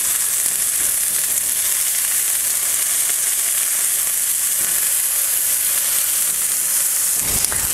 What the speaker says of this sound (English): Pressing it down can help you get a nice sear on all parts of the top as well.